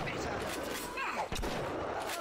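In the video game Bioshock, a security camera turret fires on the player, producing heavy, booming gunshots over a dense, noisy game soundscape, with a sharp loud blast near the middle.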